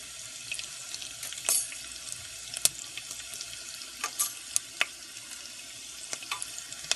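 Ginger and Indian five-spice sizzle steadily in a hot pan, a soft continuous hiss broken by scattered pops and crackles, with no talking.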